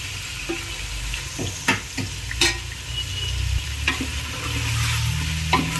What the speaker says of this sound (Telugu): ఇట్లా మంచిగా వేపుకోవాలి. ఇట్లా వేపుతో మంచిగా ఉంటుంది.